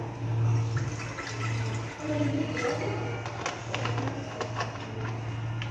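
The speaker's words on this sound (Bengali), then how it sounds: "প্রেশারে একটু গরম জল দিয়ে দিচ্ছি।" Hot water pours into a pressure cooker on a home stove while meat is being cooked, a steady close watery rush with faint clatter running for several seconds and no talking.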